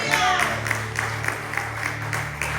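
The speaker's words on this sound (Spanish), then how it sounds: "Denle con más fuerte sus aplausos y es para el Señor" A church congregation applauds during a sermon, with brisk clapping at a steady rhythm of roughly two beats a second. Voices sound over the claps the whole time.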